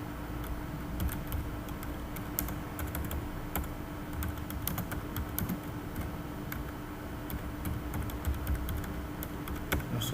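Steady typing on a computer keyboard, with a continuous patter of light clicks throughout, close and fairly quiet, with no talking.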